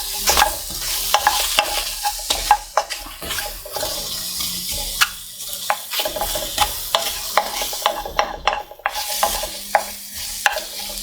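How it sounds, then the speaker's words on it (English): Courgettes frying in a pan for a creamy prawn penne, sizzling steadily with repeated clatters and scrapes as the pieces are turned over, close and without talk. "I'm just trying to turn over some of the courgettes that are still a bit pale on one side, so I'm just trying to get them down onto the heat."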